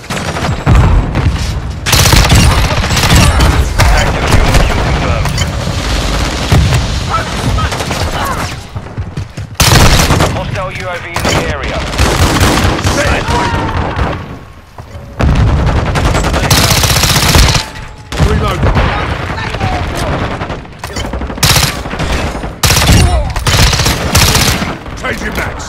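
Rapid gunfire and bursts ring out in a Call of Duty-style shooter on the small Shipment map, with pistol shots and gunship strikes. Dense, loud and nearly continuous, broken only by brief lulls, with faint game voice callouts mixed in.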